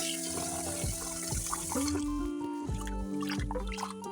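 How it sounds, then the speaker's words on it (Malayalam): Rice is rinsed in water in a home kitchen, with soft sloshing, trickling and small clinks of grains and a vessel, all close by and fairly quiet. "അരി നന്നായിട്ട് കഴുകിയെടുക്കുന്നുണ്ട്"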